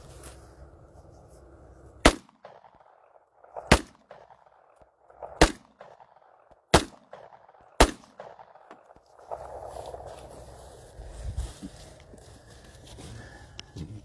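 Guns fired outdoors, five sharp, loud single shots spaced one to two seconds apart, each followed by a short echo, then quieter rustling and handling sounds.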